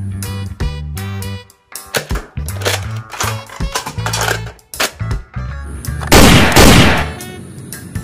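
Toy space gun sound effects, a loud run of bright electronic bleeps and stepped warbling tones that ends in a burst of harsh noisy zapping, close up with no talking.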